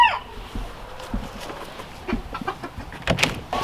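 Hens clucking and murmuring softly at close range inside their coop before dawn in winter, with scattered short calls and some shuffling noises over a quiet background.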